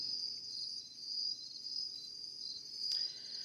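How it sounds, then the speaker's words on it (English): Crickets chirp in a forest at night near Riverhead, New York, a dense, continuous high trill at steady moderate loudness with slight swells, and no one talking. "Can you play this track of Crickets Chirping for me, bro? Well, I don't know. It's not a track. It's just real life."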